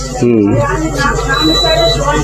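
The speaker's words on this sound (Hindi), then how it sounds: "ये आ रही बीप, ये आपको आवाज आ रही होगी" A multimeter's continuity buzzer sounds while the internal parts of a kitchen mixer are being tested, a thin steady beep sitting beneath someone talking close up throughout.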